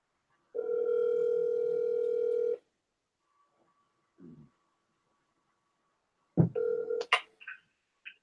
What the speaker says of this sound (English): So let me just call Lars right now. You can listen along